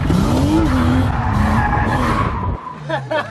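BMW E36 drift car sliding with loud tire squeal and engine revving under load, a sustained skid of about two and a half seconds, then the engine note drops and the car settles.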